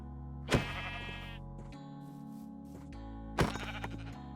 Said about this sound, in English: where's that stupid sheep?